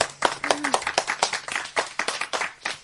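A run of brisk hand claps, several fast irregular strikes close to the mic with a short tonal sweep partway through, sounding like a small applause burst.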